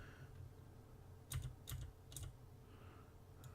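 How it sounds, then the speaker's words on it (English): Clicky mechanical keyboard keys tap in a few quick bursts, close but faint, over a low constant background hum. "I have a mechanical keyboard, so it makes a heck of a racket."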